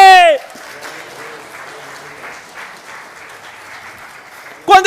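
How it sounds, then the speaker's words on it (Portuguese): A church congregation at a Sunday service claps softly and steadily for several seconds, faint and distant, bracketed by a preacher's voice at the start and end. "Igreja, aplauda o Senhor se você pode."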